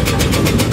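A homemade tobacco shredding machine, a replica of a Rembang-built design, runs with a steady, loud mechanical drone and a faint rhythmic pulse throughout.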